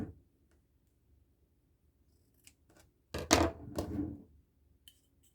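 Scissors snip through ribbon ends on an angle for a candle gift bow, a few sharp close cuts with quiet pauses between, the loudest pair coming together midway.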